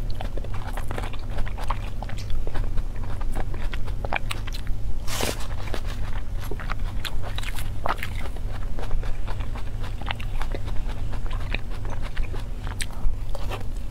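Close, steady biting and crunching of a slice of sunshine muscat grape matcha mille-crepe cake with crisp grapes, a series of wet crunches and chewing sounds repeated throughout with no talking.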